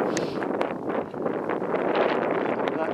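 Wind buffets a microphone outdoors at a metal detecting dig, a continuous rough low rumble with gusty swells, loud and close throughout the three seconds, with no voice.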